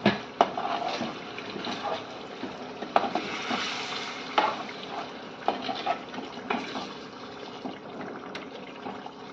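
A spoon scrapes and stirs through a thick, wet chicken curry in a pan, with soft sizzling underneath and irregular clinks of metal against the pan.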